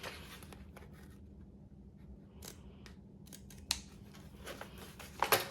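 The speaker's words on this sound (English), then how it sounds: "cut the V-shaped corners, making sure you do not snip into any of your stitches" Scissors snip V-shaped corners into sewn fabric in a quiet room, a series of crisp, light cuts at irregular intervals, with a couple of sharper clicks near the end.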